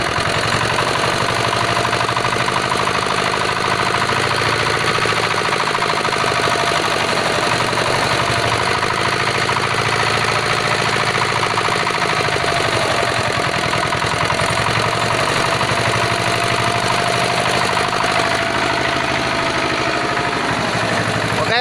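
An old Sumo diesel generator engine runs steadily at a constant loud, knocking idle, a dense mechanical drone with rapid pulsing that continues without a break.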